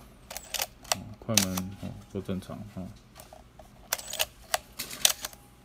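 Minolta SRT Super mechanical film SLR camera shutter firing, several sharp crisp clicks repeated at changing speeds, close up, with someone talking in between.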